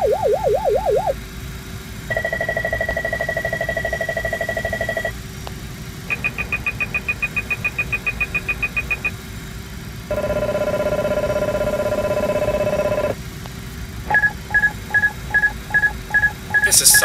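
Aural warning tests in a CRJ-200 flight simulator play as a sequence of about five distinct electronic alert tones: warbling beeps, steady chimes, rapid pulsed tones and a buzzing horn, each a few seconds long with short gaps between.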